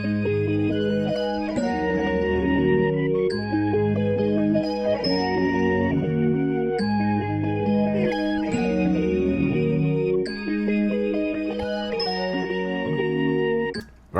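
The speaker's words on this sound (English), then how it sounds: "I used a patch called Forest Bells and Flute. And then what it is, it's a bell on the initial attack, and then a flute for the decay and release." M-Tron synth patch Forest Bells and Flute playing a melodic phrase, each note struck with a chiming bell attack that melts into a sustained breathy flute tone, layered chords repeating steadily and loud throughout, without voices.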